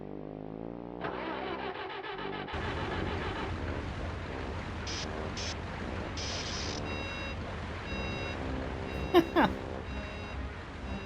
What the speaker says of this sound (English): The backup beeper.